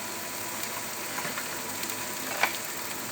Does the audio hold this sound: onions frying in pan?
yes